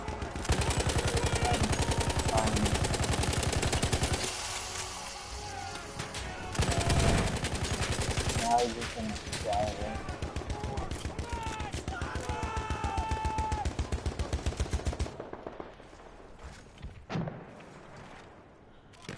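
Bursts of machine gun fire aimed at a bomber in the Battlefield 1 video game rattle in rapid, loud strings. Heavy thumps and explosions land between the bursts, and voices sound faintly amid the battle.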